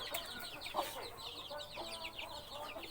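A flock of fighting cocks and hens cluck and chatter softly at a Thai gamecock farm, with overlapping calls scattered through a quiet outdoor background and no talking.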